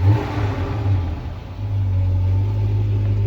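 A 1977 Ford Fairlane ZH V8 engine rumbles loudly close by, rising in a rev, dipping briefly, then settling into a steady deep roar.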